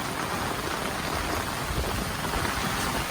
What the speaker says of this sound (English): let's take a look at the rain